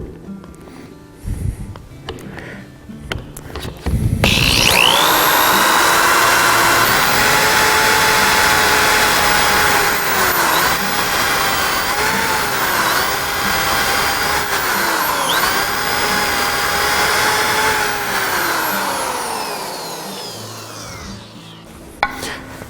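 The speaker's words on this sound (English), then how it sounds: "now we can drill here." A power drill whines steadily into a wooden table leg for about fifteen seconds, loud and close, its pitch dipping briefly under load a few times before it stops.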